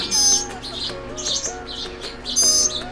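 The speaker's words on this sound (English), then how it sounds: "Little downy woodpecker." Baby downy woodpecker chirping close by, a series of high, thin, repeated calls in bursts, with some softer squeaks between them.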